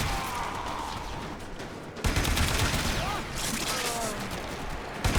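Rapid gunfire in the shooter game Warframe, dense sustained bursts of automatic fire and impacts that fill the whole stretch, loud and close, with a brief dip in the middle before the shooting resumes.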